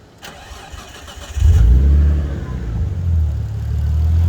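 A Nissan Stagea's RB-series inline-six cranks and fires up nearby, a brief starter whir giving way to a loud, deep, steady idle rumble.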